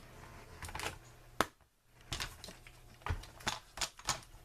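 Paper trimmer slicing cardstock at a craft table, a handful of quick, sharp clicks and clacks in an uneven rhythm, close and fairly quiet.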